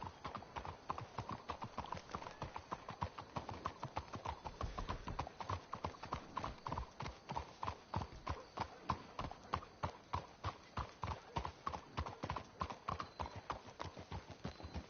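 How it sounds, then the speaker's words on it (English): Horses' hooves clip-clop steadily in Red Dead Redemption 2, a fast, even rhythm of close, crisp hoofbeats continuing throughout with no talk over them. "Let's hitch the horses up ahead."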